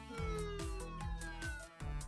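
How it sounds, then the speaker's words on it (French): A police vehicle siren wails in a repeating rising and falling pattern, a loud close electronic tone that cycles several times across the clip, with brief clicks between cycles. "On a la sirène."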